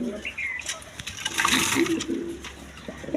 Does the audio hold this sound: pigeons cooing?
yes